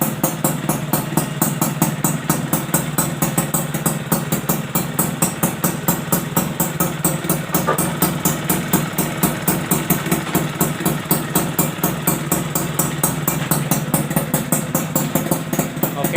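A Yamaha F1ZR two-stroke motorcycle engine with an aftermarket exhaust idles steadily, a close, rapid, even putter with a regular pulsing beat, heard alone throughout.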